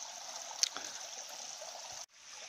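Clear mountain stream flowing in a steady, close hiss with a brief splash near the start, cutting off abruptly just before the end.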